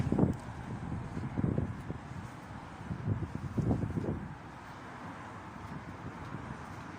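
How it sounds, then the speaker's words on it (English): Gusts of wind buffet and rumble against the microphone in uneven bursts outside HMP YOI Feltham, then ease into a quieter, steady breeze. "Beautiful windy day."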